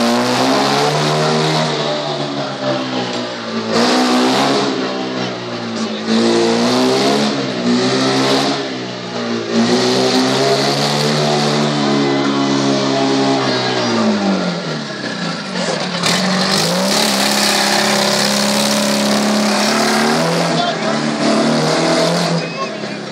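A dragster engine revving loudly and close at a stunt show, with long rising and falling roars and sharp throttle blips, a deep drop in pitch midway, then more hard revving to the end.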